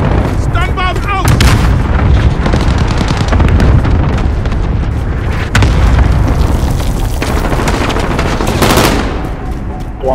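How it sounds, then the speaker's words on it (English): A dense, loud battle in Call of Duty: Modern Warfare: heavy booms, a stun grenade blast and constant gunfire rumble without pause, with clipped radio-style voice callouts mixed in. "Stun bomb out!"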